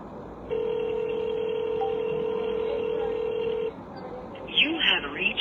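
A telephone call gives a single long, steady ringing tone for about three seconds. Speech follows after a short pause.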